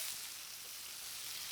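Ribeye steak for a Philly cheesesteak sizzles in hot oil, a brief, even hiss of frying that stays faint and steady with no voices.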